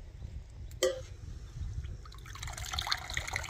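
Water is poured into a cooking pot in a hill-village home kitchen, a short splash followed by a louder, steady rush of pouring that builds toward the end.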